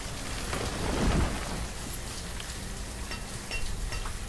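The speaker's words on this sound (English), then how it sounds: "Oh, it's raining." Steady rain with a distant thunder rumble from the weather effect in the city-building game Banished, a continuous hiss of falling drops with a low roll near the start, no voices.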